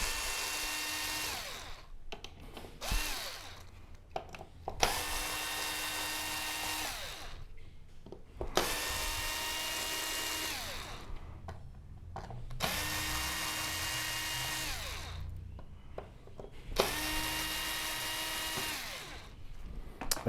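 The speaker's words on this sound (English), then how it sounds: "So let's get these screws out of the TCON board" A power screwdriver whirs in repeated bursts of about two seconds each, separated by short pauses, while screws are backed out of the TCON board of an LG OLED65A1PUA television.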